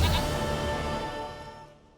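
A goat bleats in The Witcher 3 video game, one long wavering cry heard close and loud, fading away over two seconds.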